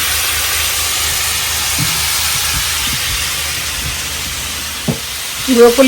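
Broccoli fries in a pan with a steady, broadband sizzle and hiss that holds throughout, ending in a few louder clattering pops.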